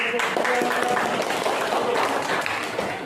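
Classmates applaud a group presentation in a classroom with a dense, continuous patter of clapping, and voices mix in throughout.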